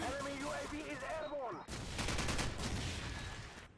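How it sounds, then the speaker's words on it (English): Rapid video-game gunfire from Call of Duty 4: Modern Warfare bursts out in dense, loud volleys of automatic shots, with a player's excited voice and brief laughter over the first part. "I'm really getting shot at, man."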